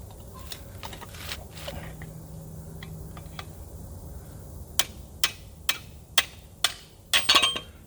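Several sharp metallic taps of a small hammer striking a punch ring out one after another, growing louder and more spaced near the end, over a faint low hum.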